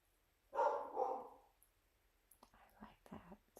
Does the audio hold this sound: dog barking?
yes